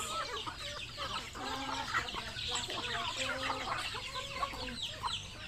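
Pet chickens at afternoon feeding on a rural province farm cluck and chatter steadily at close range, several birds overlapping against a low background rumble.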